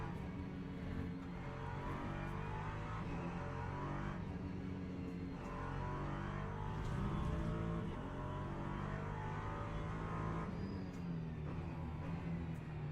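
Engine of an LMP3 prototype race car in the sim racing game Le Mans Ultimate, a continuous droning engine note rising and falling with throttle and gear changes, no voices.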